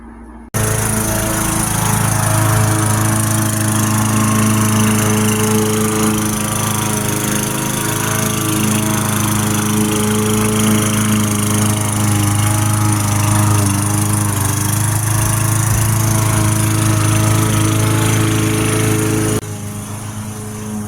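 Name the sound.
lawn mower mowing the lawn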